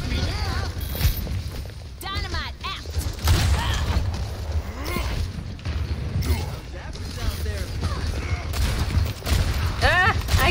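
Gunfire in a video game crackles in quick bursts and scattered booms throughout, mixed with mechanical clanks, while several people talk excitedly over it.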